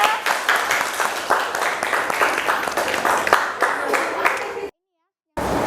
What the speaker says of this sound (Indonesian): Oke, kita berikan tepuk tangan kepada teman kita.